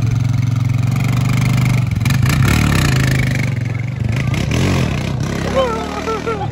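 A freshly repaired motorcycle engine idles loud and close in Surutato, a steady throbbing drone with a slight surge partway through. People talk and shout over it.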